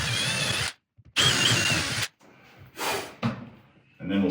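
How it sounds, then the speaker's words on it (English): A power drill boring hardware holes in a DIY pantry cabinet: two loud, close bursts of whirring, each under a second long, followed by shorter, quieter spurts separated by silences. "And drill our hardware holes."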